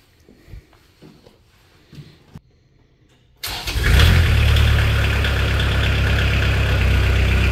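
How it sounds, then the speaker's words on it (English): The Kubota engine of a 2014 Moffett M55 truck-mounted forklift cranks and fires up about halfway through after a few quiet clunks, then settles into a steady, loud running drone close by. "You can hear the Kubota engine run."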